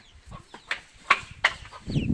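A domestic turkey hen at a village home gives a few short, sharp clucks, close by, with brief quiet gaps between calls and a soft rustle at the end.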